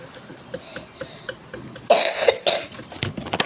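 A few sharp coughs, close by, with a louder burst of coughing near the end and quieter background sounds before it.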